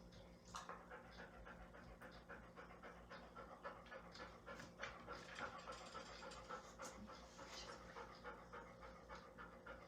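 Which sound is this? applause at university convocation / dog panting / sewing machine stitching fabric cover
dog panting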